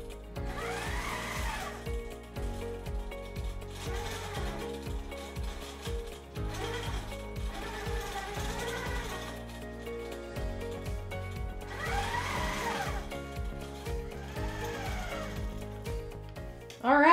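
QMP 16 longarm quilting machine stitching a basket weave fill along a ruler held against a ruler base, a steady mechanical hum with rhythmic rattling pulses that swell and fade over a long stretch, no voices.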